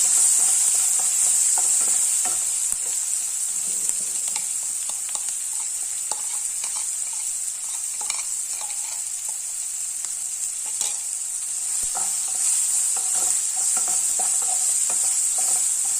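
Tomato, capsicum and ground masala with cumin powder and garlic are stirred and fried in a pan for variety rice, giving a steady close sizzle with frequent scraping stirs throughout.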